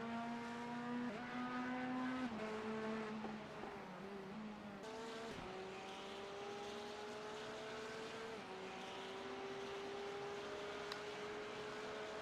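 A BMW race car engine in iRacing at Bathurst holds a steady, fairly quiet drone that climbs through the gears with clear upshifts and a dip and lift around braking, heard alone.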